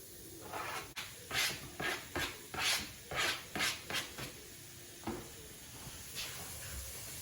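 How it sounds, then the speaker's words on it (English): Sliced vegetables stirred in an oven-safe pan, a quiet run of about ten regular scraping, rasping strokes over a few seconds, then a couple of softer scrapes with no talking. "Let's just give that a bit of a stir"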